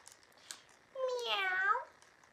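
A single cat meow, rising and then falling in a clear, drawn-out tone, fairly close but modest in level, with faint background sounds before it.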